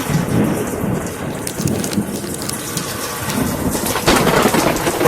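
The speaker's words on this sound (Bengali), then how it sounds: "প্রচুর বৃষ্টি আছে তবু আমি ভিজে ভিজে ভিডিও করছি" Heavy rain pours down continuously, loud and close, with a deep rumble of thunder rolling underneath.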